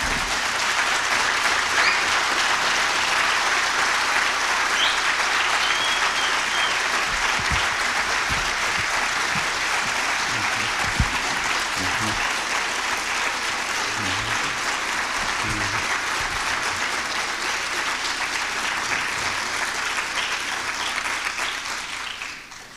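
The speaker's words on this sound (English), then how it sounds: "standing and giving a round of applause for our scholar, Dr. John Henrik Clarke." A standing audience applauds a scholar at a lecture, sustained dense clapping that holds steady for over twenty seconds before tapering off at the end.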